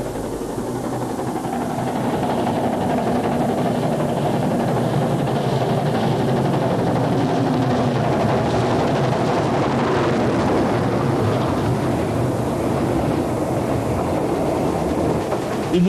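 A continuous loud roar of a train rumbling through a long mountain railway tunnel, about six kilometres long, with dense rushing noise that holds steady throughout.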